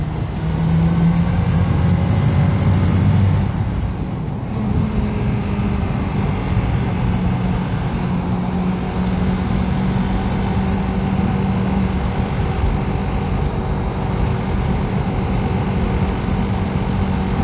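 A 1985 Kawasaki GPZ600R motorcycle on the road, its engine a steady loud drone with a sustained low hum and wind rush throughout, the pitch briefly shifting early on.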